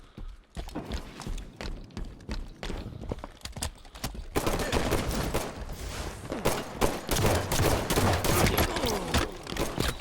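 Rapid bursts of video game gunfire from a Halo 5 multiplayer match, dense repeated shots growing louder and busier in the second half, with no talk over them.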